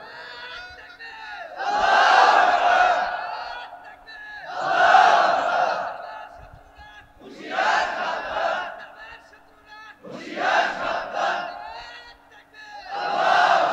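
A large crowd at an Islamic waz sermon chants religious slogans in unison, five loud swelling bursts in a regular call-and-response rhythm with brief quiet gaps between.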